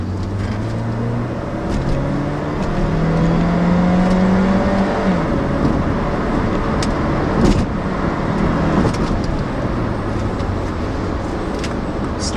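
A 2004 Saab 9-3 ARC 2.0T accelerates hard up an on-ramp, heard from inside the cabin as a loud, steady engine drone rising in pitch with a gear change partway through.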